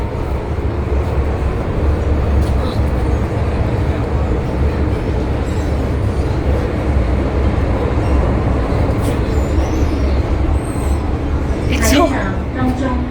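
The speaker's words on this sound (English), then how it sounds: "And the train is absolutely loud." Loud, continuous rumbling roar of an MTR Tsuen Wan line metro train running underground, heard from inside the carriage with a steady rattling drone throughout and a few sharp squeals near the end; a voice speaks over it.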